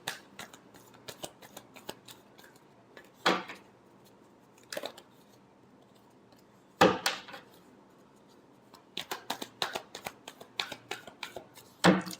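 Tarot cards are shuffled by hand in quick papery riffles and taps, with several sharper bursts of flicking cards in clusters over a quiet background.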